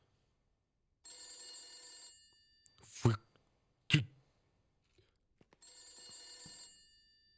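A telephone rings in The Beast Inside video game, two bursts of trilling bell about five seconds apart, fairly faint, with two loud knocks or thuds between them and a brief voice.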